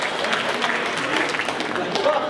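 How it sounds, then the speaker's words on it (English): Applause from guests at Cody and Megan's wedding reception, a steady broadband patter of many hands held at an even level for about two seconds, with some voices mixed into the crowd. "nice round of applause for this man right here"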